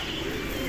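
A blue bar young racing pigeon coos softly at the loft on arrival from a training race, a brief low murmur heard faintly over quiet background hiss.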